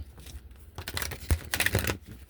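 Tarot cards are riffled and shuffled by hand in irregular bursts of papery flicks and slaps. The sounds are close and fairly quiet, with no talking.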